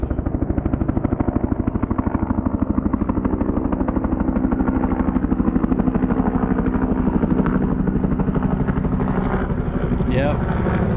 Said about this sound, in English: It's like a rescue helicopter.